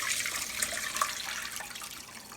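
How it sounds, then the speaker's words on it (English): A soft, steady rush of water pours and trickles through a strainer as cooked green vegetables drain, faint and continuous, with no talking. "I take the water out of the vegetables"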